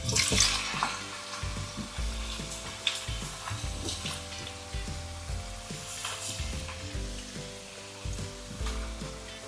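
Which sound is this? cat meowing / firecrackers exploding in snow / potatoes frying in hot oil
potatoes frying in hot oil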